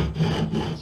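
A bucksaw blade rasps across a wooden branch in a brief, close stroke, a rough rubbing scrape rising and falling once, with no voices.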